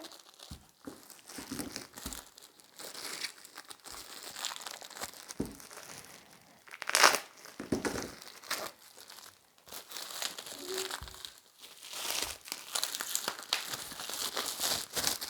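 Crinkling and tearing of wrapping while a board game box is opened, a run of close, quiet crackles and crumples with sharp rips now and then and brief pauses between handlings.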